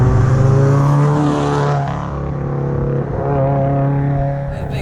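A 460 HP Subaru Outback engine revs steadily with a droning exhaust, loud and close, held at a sustained pitch with slight dips and rises throughout.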